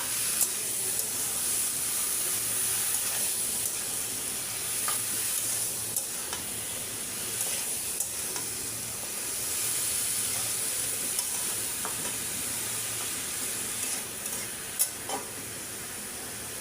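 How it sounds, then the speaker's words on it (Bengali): Potatoes and drumstick stalks sauté in a pan for a fish curry, with a steady hiss and sizzle broken by occasional scrapes and clinks of stirring. "এখন দিয়ে দিলাম আলু আর ডাটা। আলু ডাটা দিয়ে ভালো করে কষায় নিই।"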